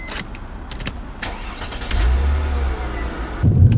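A Mercedes CLK 320 convertible (W208/C208) starts up with a brief crank and catch, then settles into a low engine hum and a rising rev close by, with no voices.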